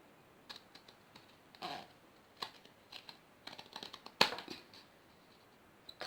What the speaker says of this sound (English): grab some scissors that will definitely cut through cardboard